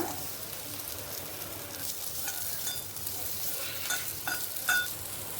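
Onion and garlic sautéing in a little oil in a pan for a ridge gourd peel chutney: a steady, close sizzle and frying hiss with occasional stirring clicks and scrapes, no talking.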